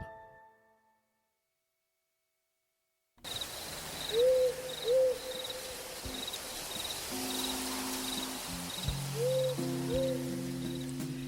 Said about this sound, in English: Do you know about the burrowing owl?